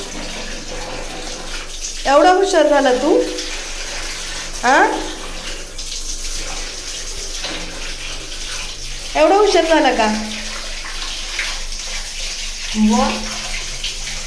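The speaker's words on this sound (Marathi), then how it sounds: "अगो बाई, हे बघ स्वतः नळ उघडतोय." Water runs from a tap a child has opened during a bath, a steady gentle flow under an adult voice that speaks in short bursts over it.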